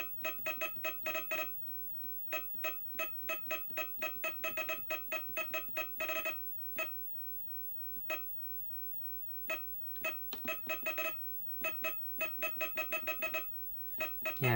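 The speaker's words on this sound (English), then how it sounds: "Yeah, it makes the sound as you doodle around." Beeping from the RCA Studio II's Doodle game: rapid bursts of electronic tone pulses, repeated in irregular runs with short pauses while a pattern is drawn, clear and fairly loud with no talk.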